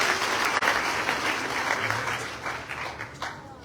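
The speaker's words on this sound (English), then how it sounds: "Karen Kamal, just give her a round of applause in her absence." A graduation crowd gives a full round of applause, a broad continuous roar of many hands clapping at fairly high volume that eases slightly toward the end.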